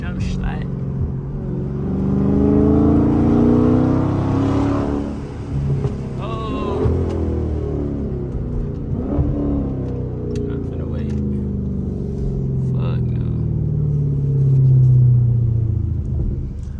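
A Dodge Charger's engine rumbles low and steady as it drives through Atlanta streets, swelling briefly near the end under ongoing talk from people inside the car.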